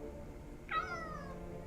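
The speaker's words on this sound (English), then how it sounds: "I hear you meowing at me." A pet cat gives a single short meow at mid-range, over a steady low background hum, with no one talking.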